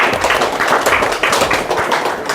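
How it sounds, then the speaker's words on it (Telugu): A group of people with intellectual disabilities clapping together as a birthday greeting, a dense, steady patter of applause with no pause. "మా యొక్క మానసిక వికలాంగుల ద్వారా చప్పట్లతో పుట్టినరోజు శుభాకాంక్షలు కూడా తెలియజేసుకుంటున్నాము"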